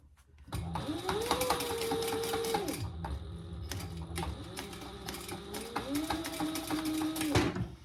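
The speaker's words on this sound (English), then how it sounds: "I'm just going to add another straight line of stitches, 1/8 of an inch from where I stitched right there" A sewing machine runs a straight line of stitches on a mini backpack, whirring in two long near bursts with a brief pause between, its motor pitch rising and steadying, then stopping abruptly.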